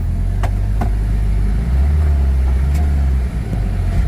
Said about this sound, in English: letting that engine brake kick in